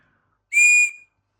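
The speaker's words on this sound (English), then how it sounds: "So that's quite a shrill whistle, so not a bad little whistle in itself." A single short, piercing blast of a small survival whistle, shrill, sharp and clear in otherwise silent surroundings.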